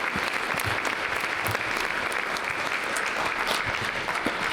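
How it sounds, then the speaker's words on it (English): A round of applause at a national gala welcoming young changemakers: steady, moderately distant clapping from a crowd, unbroken for several seconds. "Let's first welcome our young Changemakers with another round of applause,"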